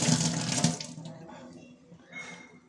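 Water running from a kitchen tap while dal is soaked for garelu, a loud close splashing gush in the first second that trails off into a quieter trickle.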